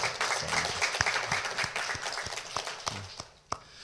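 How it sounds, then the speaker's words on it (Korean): Congregation clapping during a Sunday morning church service, a fairly faint, steady patter of many hands with a few sharper individual claps standing out near the end. "박수 한번 영광을 돌립니다"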